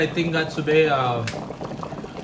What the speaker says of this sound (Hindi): अंडे आप देख रहे हो बहुत ज़ोर ज़ोर से उबल रहे हैं